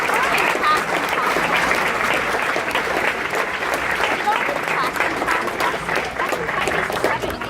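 A crowd at the G-Fest convention's 25th-anniversary opening ceremony claps hard and continuously, a thick wash of applause that stays loud from start to finish with faint voices underneath.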